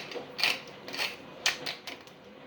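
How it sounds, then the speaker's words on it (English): Black pepper ground in a pepper mill while mixing dukkah, heard as several short, dry crunching bursts at an irregular rhythm, fairly quiet and close, with no talking. "a good grind of black pepper"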